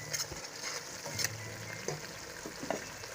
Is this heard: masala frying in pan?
yes